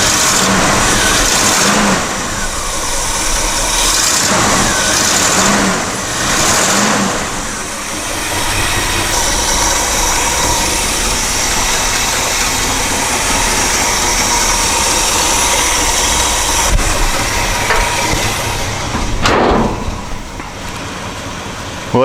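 A 1962 Chevy C-10 pickup engine with a starter problem cranks and fires, then settles into a steady, loud, rough idle that runs on without pause, with no talking over it.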